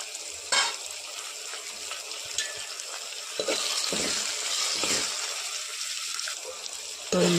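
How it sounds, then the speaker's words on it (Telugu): Tomato pieces with onion and green chilli fry in a pan, a soft steady sizzle broken by a few louder stirring clatters, fairly close and moderately quiet. "ఉల్లిపాయ, పచ్చిమిర్చి కొంచెం వేగాక టమాటా ముక్కలు వేసుకుంటున్నాను."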